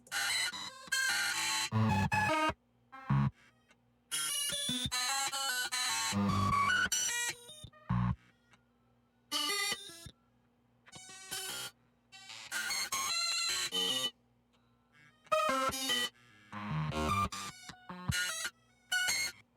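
Choppy, stuttering synthesized tones from a modulated, randomized note repeat burst in and out with abrupt gaps, a jittery electronic sequence of clipped notes and squawks.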